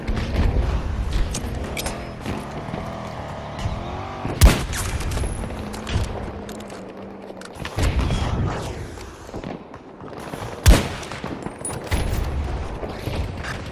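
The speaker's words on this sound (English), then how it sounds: "Grenade!" Battlefield 2042 combat plays as a dense, busy fight: two sharp grenade-like blasts stand out at intervals against a steady backdrop of distant gunfire, mechanical clatter and rumbling battle noise.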